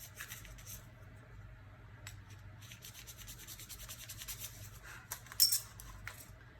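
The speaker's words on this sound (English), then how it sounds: "Clean off more of the excess with this polishing pad." A polishing pad rubs excess patina off a metal stamp, giving soft, close scratchy strokes in an irregular rhythm, with one brief sharper clink near the end against a quiet background.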